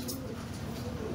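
Male pigeon cooing softly in a loft, a low rolling coo lasting about a second, close by with faint background noise.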